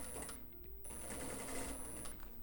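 Sewing machine running steadily while stitching a seam on a tweed jacket, a close, continuous mechanical whir with a brief pause near the start, fairly quiet and with no talking.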